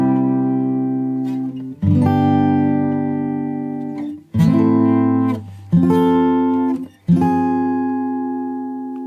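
Acoustic guitar plays the chorus of a song from Encanto: four ringing chords, each strummed once and left to sustain for about two seconds, clear and alone.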